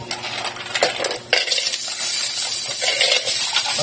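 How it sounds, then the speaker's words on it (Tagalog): Mussels tumble into a hot pan of sautéed onion and ginger, a sharp clatter and stir of shells against metal followed by a loud, steady sizzle and frying hiss close by. "Luto na yung luya, lalagyan na natin yung tahong."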